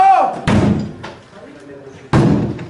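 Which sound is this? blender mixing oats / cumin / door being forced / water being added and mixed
door being forced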